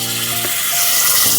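Mustard seeds and bay leaves fry in hot oil for a tempering, giving a loud, close, continuous sizzle with faint spatters and no talking.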